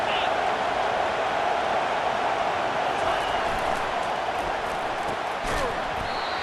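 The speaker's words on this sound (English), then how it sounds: "this crowd is turning it up a notch" Football stadium crowd at a Syracuse versus Oklahoma game roaring steadily and loudly as second down approaches, a dense continuous cheer with broadcast commentary over it.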